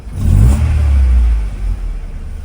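A car engine just after start-up surges briefly, then settles into a steady low idle rumble, loud and close with no voices.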